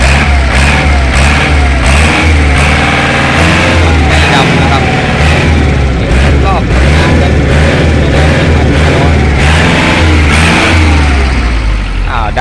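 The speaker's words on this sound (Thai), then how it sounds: "อ่าลองเหยียบคันเร่งดู" Engine of a used Kubota L4708SP tractor revving as the accelerator is pressed, a loud, close diesel roar rising and falling over a continuous low rumble, with people talking over it.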